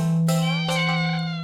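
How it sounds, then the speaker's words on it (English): A cat meows pitifully, a few drawn-out, wavering cries close up, loud and clear with no talk. "You make it halfway out the alley when the cat meows, almost pitifully at you."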